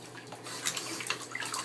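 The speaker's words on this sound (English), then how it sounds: "Are you splashing?" A baby splashes water in a bathtub, with close, uneven sloshes and drips in a short burst and no talking.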